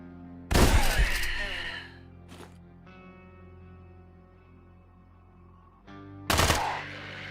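Two loud bursts of video game gunfire in Quasimorph, each a harsh, reverberant blast followed by a ringing decay with a low hum between them.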